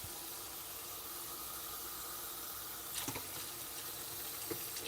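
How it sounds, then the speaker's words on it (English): Water poured into pierogi dough in a home kitchen gives a steady, soft hiss that runs the whole time, with a couple of brief louder splashes near the end. "I'm gonna add a little more water."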